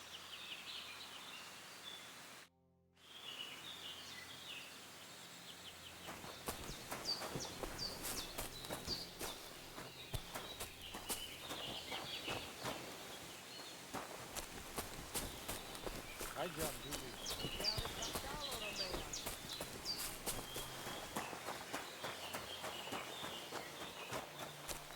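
Horse hooves clip-clopping in a medieval video game, a run of fairly rapid, close footfalls after a brief silence, with birds calling in the background and a voice speaking.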